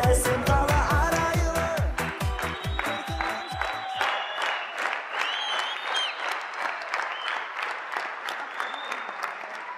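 An audience at a televised comedy contest breaks into loud applause. It opens with strong rhythmic clapping mixed with a brief musical sting, then settles into sustained, dense clapping from a large crowd.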